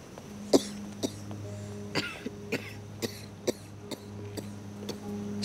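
A woman coughs in short separate bursts, about a dozen spread evenly over several seconds, close and moderately loud above a steady low hum in a quiet house.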